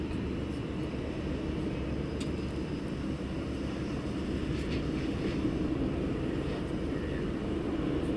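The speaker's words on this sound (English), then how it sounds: "Nice prop aircraft inbound." A propeller aircraft flies in to land at East Midlands Airport, a steady low engine drone that holds evenly throughout, fairly distant and without voices.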